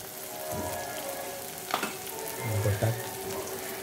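Onion and tomato cook in a pan with a soft, continuous sizzle. A few louder clatters and scraping stirs break in along the way, and low thumps near the end may be a pot or lid. No voice is heard.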